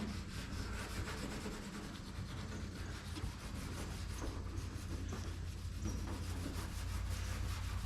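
A clay bar rubbed across the paint of a Chevrolet Silverado truck makes a soft, continuous, gritty rasp like sandpaper. The strokes run close and steady for several seconds with no talking.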